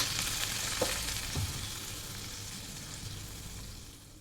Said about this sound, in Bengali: কড়াইয়ের মধ্যে তেল দিয়ে দিয়েছি, এই যে কালো জিরা ফোড়নে দিয়ে দিলাম